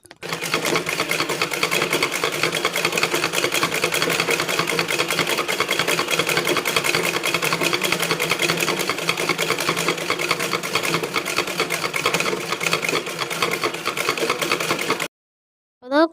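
A household sewing machine runs continuously, a loud, even rapid mechanical chatter for about fifteen seconds that stops abruptly near the end.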